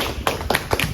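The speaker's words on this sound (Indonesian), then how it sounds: "Kita berikan tepuk tangan untuk klien dulu." An audience claps briefly at a university lecture event, a short burst of a few scattered hand claps at moderate distance.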